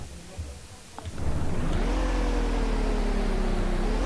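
A bus engine drives in a horror video game, starting after a quiet second with a steady loud low drone and a rising then levelling engine tone held continuously to the end.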